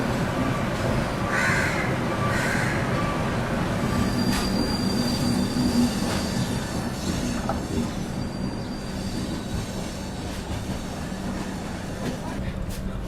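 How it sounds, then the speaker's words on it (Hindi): A Central Railway Rajdhani Express pulls out of Chhatrapati Shivaji Maharaj Terminus in Mumbai. Its wheels squeal and its cars rumble steadily and loudly for the whole stretch, and crows caw nearby. "निकल गई अपनी ट्रेन जो है छत्रपति शिवाजी महाराज टर्मिनस से अपनी सेंट्रल रेलवे की राजधानी"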